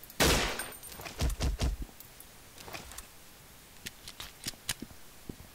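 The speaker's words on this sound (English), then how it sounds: "This is a sniper rifle, guys." Sniper rifle shots in a blockade-style video game, a few sharp loud cracks early followed by scattered quieter clicks and pops, no talking.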